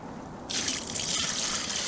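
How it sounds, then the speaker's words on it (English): Water suddenly gushing and draining out of an outdoor sink system, starting abruptly after a quiet half second and continuing as a steady, fairly soft rushing splash. "All the water you put in is going to drain right back out."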